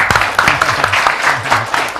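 Children in a religious school audience clap together, a loud, brisk burst of applause with rhythmic hand claps, close and lively throughout.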